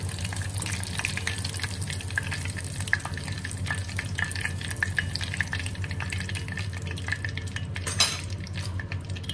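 Vegetable tempura fries in hot oil with a steady dense sizzle and crackle, and occasional stirring clinks from a utensil against the pan can be heard close up.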